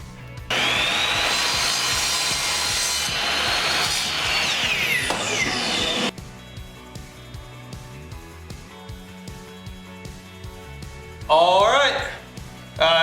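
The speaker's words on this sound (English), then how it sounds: "Here I'm just cutting up and placing more strips." Wooden strips for sliding closet doors are sawn with a power tool: a loud, sustained cutting whine for several seconds, then quieter tapping and placing sounds, and a brief final burst of cutting near the end.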